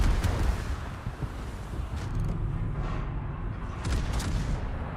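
Ship guns firing in the World of Warships video game, heavy booms and rumbling blasts coming in several bursts over a few seconds, loud and close.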